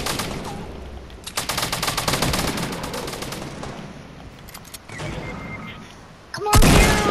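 Sustained automatic gunfire in a Fortnite battle royale match, a loud rapid rattle of shots that thins briefly midway and returns with a heavier close blast at the end.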